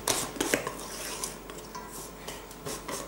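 A whisk or spoon clatters against a bowl while milk is worked into pancake batter, giving quick metallic scraping and tapping strokes, close and fairly busy, with no voices.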